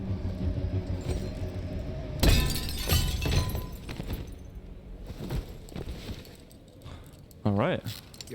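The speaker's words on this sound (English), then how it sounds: "You just shattered the glass." Glass shattering in the video game Detroit: Become Human, a sudden loud crash partway through, with crunchy debris and rumbling game sound around it and a short voice near the end.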